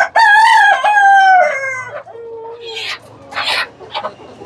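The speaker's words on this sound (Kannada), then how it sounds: "ಇವೆಲ್ಲ ತಾಯಿ ಕೋಳಿ ಮೊಟ್ಟೆ ಇಕ್ಕಿ ಮರಿ ಮಾಡಿಸಿ ಸಾಕಾಣಿಕೆ ಮಾಡಿರುವಂಥ ಕೋಳಿ, ಒರಿಜಿನಲ್ ನಾಟಿ ಕೋಳಿ" Native country chickens, hatched and raised by mother hens in a mixed batch of sizes and colours, with a rooster giving a loud, close crow up front, followed by scattered clucks and calls from the flock.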